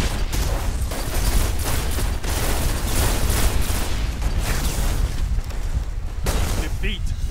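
Rapid bursts of gunfire from snipers in the shooter game Destiny, repeated sharp cracks and booms spread across the clip over a dense, busy background.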